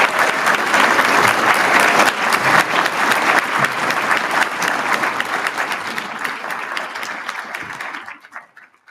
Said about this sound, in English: This is your occasion to applaud, hopefully whoop a bit and cheer